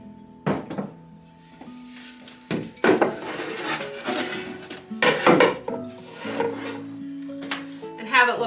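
Wooden bowls are set down, rubbed and nested against each other in a run of close knocks, scrapes and hollow thunks.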